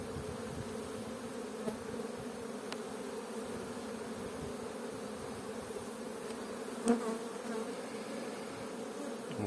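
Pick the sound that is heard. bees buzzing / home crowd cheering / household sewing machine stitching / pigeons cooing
bees buzzing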